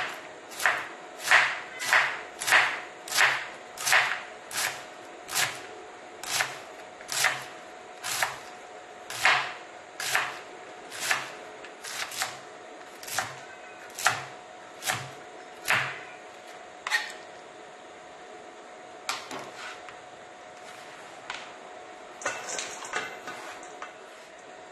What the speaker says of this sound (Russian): Ну, теперь шинкуем капусту.